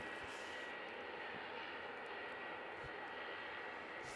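An ATR turboprop aircraft at Christchurch International Airport, a faint, steady broadband engine drone heard at a distance, continuous for the whole stretch with no talk over it.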